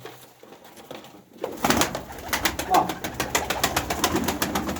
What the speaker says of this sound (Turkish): Kuşlar yeni yeni başladı ama ses soluk mükemmel